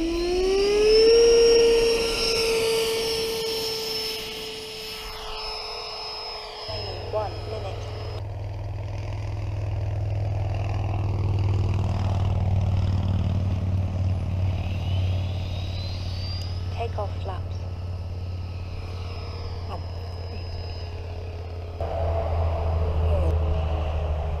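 HSD 105mm Super Viper RC jet with an electric ducted fan on a 12s setup, spooling up with a high whine that drops into a low steady hum and later rises again as power is added. Voices talk over parts of it.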